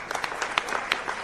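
Light, scattered clapping from a small audience at a senator's press briefing, a brief patter of claps with no voices over it.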